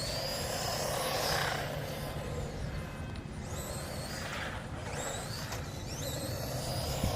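HBX 1:16 off-road 4x4 RC truck running flat out outdoors, a steady high-pitched electric motor whine and buzzing drivetrain holding at a constant level throughout, with brief tonal sweeps as it speeds past.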